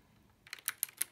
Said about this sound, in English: we're just going to type random keys